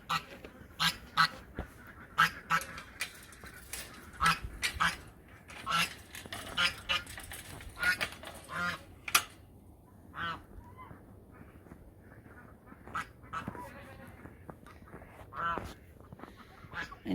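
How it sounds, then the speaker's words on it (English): Ducks are let out of their house on a snowy morning, giving loud honking quacks in scattered bursts, some close and some further off, with quieter rustling between calls and occasional voices. "So I'm going to go let the ducks out."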